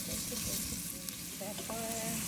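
Onion and garlic sizzle and crackle in a pan, a continuous close frying hiss with occasional stirring, alone without talk.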